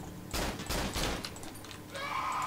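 Gunfire in the horror video game Cry of Fear: a burst of loud, close shots crackles for about a second, followed by quieter game ambience.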